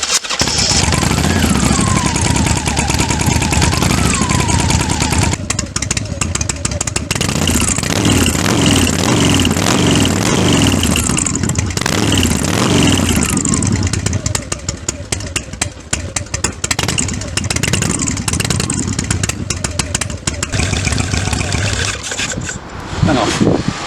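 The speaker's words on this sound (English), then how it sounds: "And now hopefully, all things being well, we can start the bike." A motorcycle engine cranks, catches and settles into a loud, steady run close by, its rough mechanical note filling the whole stretch with a few revving swells.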